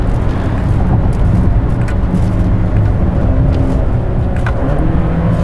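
A 2022 Hyundai Santa Cruz with a dual-clutch transmission drives through damp S-turns, its engine droning steadily and loudly with quick upshifts, plus road and tire rumble throughout.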